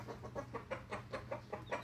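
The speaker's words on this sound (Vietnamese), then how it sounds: "Này gà nọc nha anh em" A Vietnamese fighting cock, a fiery-buff second-season bird with square leg scales, gives a steady run of about eight soft, low clucks, close but faint, over a low background hum.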